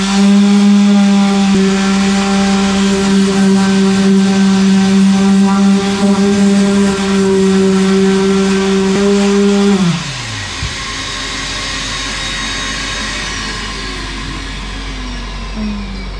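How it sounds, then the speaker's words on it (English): An orbital sander whines steadily and loudly while smoothing a fiberglass bathtub repair on a small wall crack, then cuts off near the ten-second mark and spins down, leaving only quiet room noise. "Don't go too hard if you're using your orbital sander"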